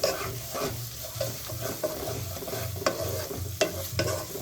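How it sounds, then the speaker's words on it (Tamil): Onion-tomato paste with turmeric is stirred and fried in a pan, a continuous sizzle broken by rhythmic scraping strokes of the spoon and a few sharper clinks against the pan, close and fairly loud with no talk. "போட்டு நல்லா வதக்கி விடுங்க."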